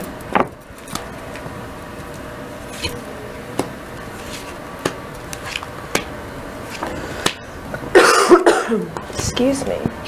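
A person on a radio show coughs several times, with sharp, brief bursts scattered through the clip, one rougher cluster near the end, while other speech and small handling noises continue around them.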